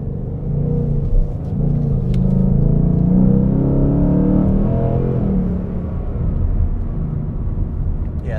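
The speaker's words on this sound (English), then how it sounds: "It's got a great tone to it, just idling too" Ford Mustang GT V8 idling with a deep, steady low rumble that holds at an even level throughout, with no voices over it.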